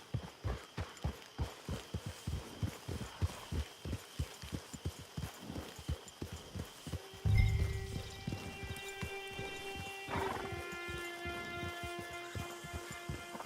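A horse gallops in the Red Dead Redemption 2 video game, with rhythmic hoofbeats at first. The hooves fade under a swelling musical score of sustained tones, with no talking.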